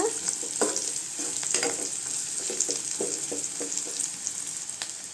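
Tamarind and other ingredients sizzle steadily in a pan while a spoon stirs and scrapes against it in repeated soft knocks, a close, continuous frying hiss throughout.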